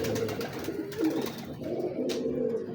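Lakha pigeons coo softly in a low, repeated rolling murmur close by, with no talking over it.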